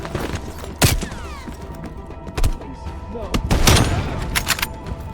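Gunfire in the Call of Duty Black Ops Cold War campaign: a few sharp shots and bursts ring out among low rumbling impacts and battle ambience, with people talking in the clip.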